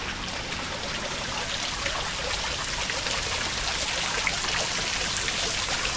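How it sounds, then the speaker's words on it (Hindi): Steady, unbroken rush of water spilling over stones at the Kilkila waterfall, a broad hiss close by with no pauses and no voices. "सामने जो पत्थरों से आपको पानी गिरते हुए नजर आ रहा है यही है दोस्तों वो झरना"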